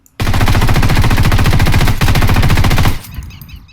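Loud, close automatic weapon fire in the video game Ghost Recon Wildlands, one sustained burst of rapid shots lasting nearly three seconds with a tiny break, then fading out.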